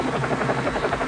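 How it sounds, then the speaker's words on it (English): A helicopter flies nearby, its rotor beating in a loud, steady, rapid thump over a continuous engine drone. "helicopters"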